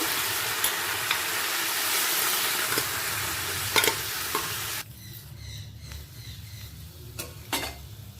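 Vegetables are stirred into a sizzling pan, with scraping strokes of a spoon over steady frying hiss that drops quieter partway through.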